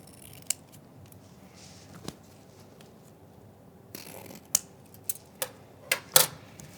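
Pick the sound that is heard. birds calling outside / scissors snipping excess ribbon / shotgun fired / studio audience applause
scissors snipping excess ribbon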